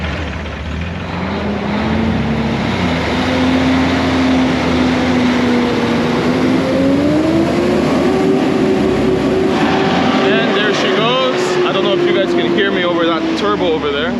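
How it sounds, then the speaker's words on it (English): Jeep TJ engine revving as it pulls in, a loud steady motor drone whose pitch slowly rises and settles, with rattling and squeaks near the end. "let's pull the Jeep in"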